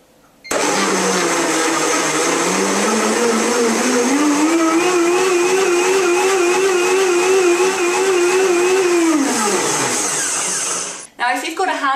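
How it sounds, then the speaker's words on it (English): A high-speed blender blending a raw Thai green curry starts abruptly and whirs loudly for about ten seconds, its pitch rising as it spins up, then winds down and stops. "one of these high-speed blenders"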